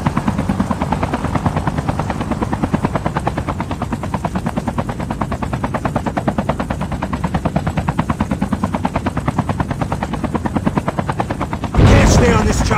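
Loud helicopter rotor chop pulses rapidly and steadily in Call of Duty Mobile battle royale, close and dominant, with a sharp burst of noise near the end.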